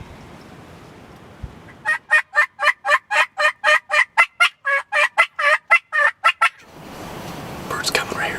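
A wild turkey gobbles at close range during a hunt, a loud rapid rattling burst of about a dozen and a half quick pulses standing out against a quiet outdoor background.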